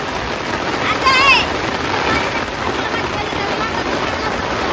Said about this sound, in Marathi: पाऊस लय जोरात चालू झालाय बघा.